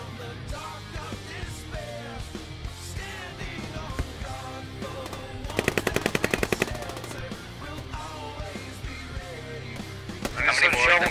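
Automatic gunfire in the military shooter game Squad during a base defence: a fast, loud burst rattles out mid-clip over constant talk and game music, with scattered shots elsewhere.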